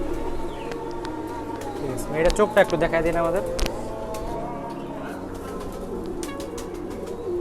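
A prized pigeon, billed as among Bangladesh's most expensive, gives soft throaty coos through steady ambient noise while someone talks over it nearby.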